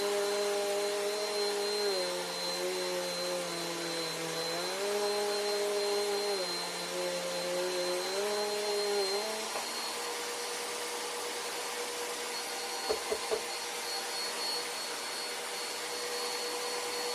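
Bagless vacuum cleaner whines steadily while sucking up fine dust, its motor pitch dipping and rising as the load changes, then cutting to a lower hum with a few clicks near the end.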